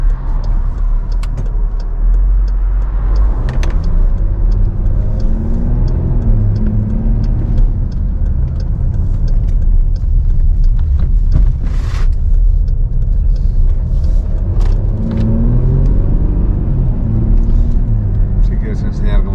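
A Jeep Grand Cherokee driving over a potholed road, a loud continuous engine and tyre rumble with repeated thumps and jolts from the bumps, while people talk over it inside the cabin.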